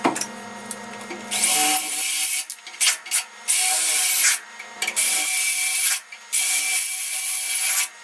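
A 5.32 drill bit bores holes in a metal security door, giving repeated loud, high grinding bursts of a few seconds each, separated by brief pauses.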